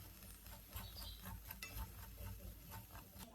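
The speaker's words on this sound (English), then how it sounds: "The crackling sound of the salt moving around the pan is very pleasant" Coarse salt stirred over medium heat in a dry old nonstick pan, a soft, continuous gritty scraping and crackle with rhythmic sweeps of the utensil, fairly quiet and close.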